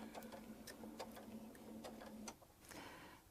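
A sewing machine stitches across a quilt block for a Baptist fan pattern, whirring at an even pitch with a rapid ticking of the needle, then stopping briefly before a short second run. The sound is quiet and close.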